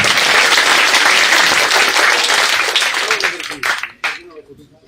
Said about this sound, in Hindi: एक बार जोरदार तालियों के साथ धर्मेंद्र काका जी का हौसला बढ़ा